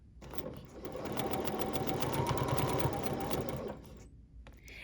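Bernina sewing machine running steadily as the needle moves up and down through fabric, a quiet continuous mechanical whir with rapid stitching pulses that stops near the end.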